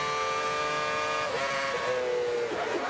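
A Formula 1 car engine in Forza Motorsport 5 drones steadily, its pitch shifting and dipping as the car brakes for a corner, loud and continuous with no talk.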